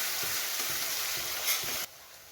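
Chopped onions fry in a kadhai with a steady, close hissing sizzle and faint soft stirring pulses, cutting off abruptly near the end to a quieter hiss.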